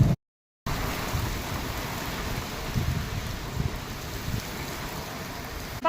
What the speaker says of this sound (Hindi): बिल्कुल मूसलाधार बारिश लगी हुई है अभी तो